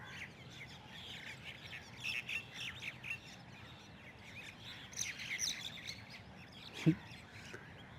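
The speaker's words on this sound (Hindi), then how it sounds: "यहाँ पर आपकी चिड़िया वगैरह, कौवा वगैरह नहा रहे हैं भाई" Crows and smaller birds bathing and calling outdoors at the Rajghat memorial grounds: scattered chirps and tweets at moderate distance over a soft background hum, with one sharper, louder call near the end.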